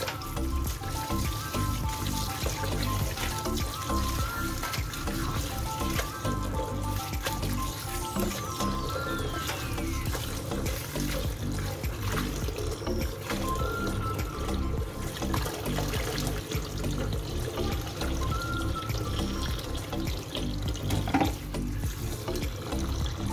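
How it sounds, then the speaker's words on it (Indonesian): Cassava leaves being washed by hand under running water, a continuous trickle and splash with handling noises, steady and close throughout. "Kita masukkan lagi, kita cuci lagi ya teman-teman."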